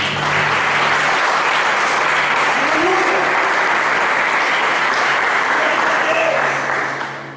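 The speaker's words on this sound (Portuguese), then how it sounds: "Meu irmão, você pode aplaudir esse Deus." A church congregation gives a long burst of dense, loud applause that holds steady for about seven seconds before starting to fade at the end.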